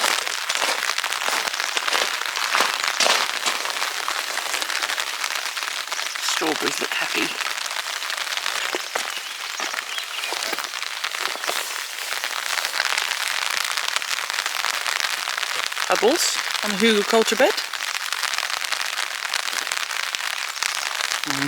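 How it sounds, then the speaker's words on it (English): Rain patters steadily and densely on a homestead in Portugal, a continuous hiss of drops landing near the microphone with brief rustles, while a person speaks briefly over it. "Rain is so rare, it's quite exciting to get to see what it's doing to our land."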